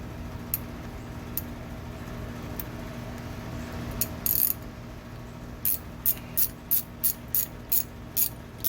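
A wrench loosening a suspension nut on a Toyota Tacoma during a Pro Comp lift kit install, a few sparse ratchet clicks, then a steady run of sharp clicks, close, over a low background hum.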